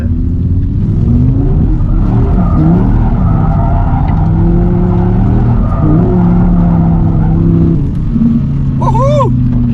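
A 2023 Audi R8 GT accelerates in second gear, its loud engine drone rising and falling in pitch from inside the car, with a chirp near the end and voices faintly underneath.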